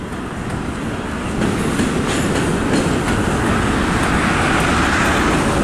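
An eastbound freight train roars by close, loud and fast, a continuous heavy rumble with rhythmic clacking of wheels over rail joints, growing slightly louder as it passes.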